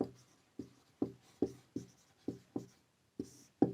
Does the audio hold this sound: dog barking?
no